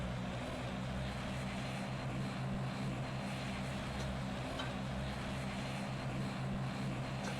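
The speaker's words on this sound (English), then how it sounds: "Once that's done, we start engines" Aircraft engines running during pushback in the Roblox game PTFS, a steady, loud propeller-like drone with constant broadband roar and no variation in level.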